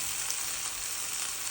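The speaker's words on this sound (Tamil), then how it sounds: "மொத்தம் எண்ணெயில் இது வந்து பொரிக்கும்." Chicken pieces fry Vanni style in plenty of hot oil, giving a steady, dense sizzle that holds at an even level throughout, with no voices over it.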